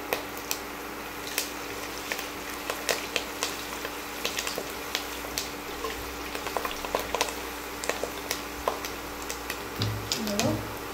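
Coriander and curry leaves frying in a pan, a continuous sizzling bubble with scattered sharp crackles and pops across the whole stretch, fairly close and without talk.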